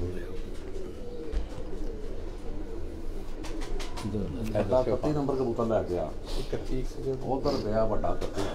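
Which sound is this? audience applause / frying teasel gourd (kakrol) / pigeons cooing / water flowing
pigeons cooing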